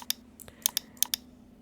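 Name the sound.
pressing enter key on computer keyboard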